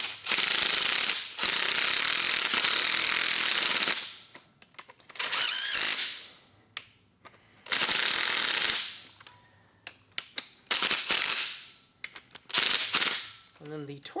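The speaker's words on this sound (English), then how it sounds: "get my impact wrench here, and I'm just going to bring them down to touch in a cross pattern" An impact wrench tightening bolts on a Ford 5.4L 3V engine front accessories, loud rattling bursts of several seconds each, then a string of shorter rapid hits, with pauses between.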